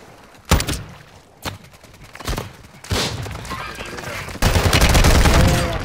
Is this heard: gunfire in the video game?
yes